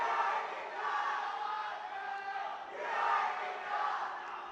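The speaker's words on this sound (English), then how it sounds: "People are cheering, shouting loudly at the team members." Crowd at the DD Robocon 2025 national robotics competition at IIT Delhi cheering and shouting, a sustained distant roar that swells in waves without a clear break.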